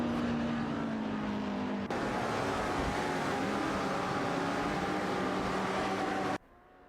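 Racing cars, including a Ferrari 250 GTO and an Aston Martin, howl continuously in an AI racing video game, with a sharp cut midway and abrupt quieting near the end.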